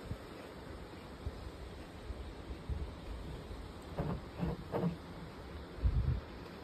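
Faint, steady wind rushing outdoors on a deck, with a few soft gusts and brief bumps toward the end.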